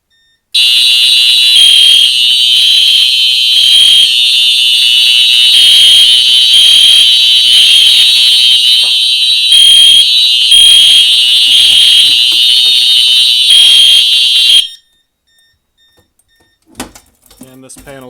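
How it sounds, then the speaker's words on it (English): A loud, continuous electronic fire alarm tone from a fire alarm panel during a system test pulses for about fifteen seconds, then cuts off, followed by faint clicks and a brief beep from the panel, which has no batteries. "this panel's beeping because there's no batteries"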